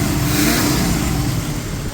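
A car engine idles after fuel tank work and a tune-up, giving a steady, loud, close rumble with a low hum and a slight rise and fall, running alone.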